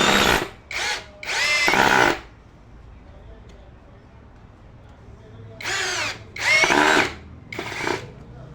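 Power drill driving a 2.5-inch screw, two bursts of high whining, each in quick pulses, split by a quiet pause. Loud and close.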